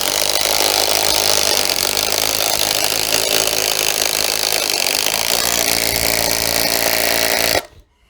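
A Lidl Parkside cordless impact driver runs close and loud in one continuous burst of harsh, rattling hammering that cuts off abruptly near the end, with no voices.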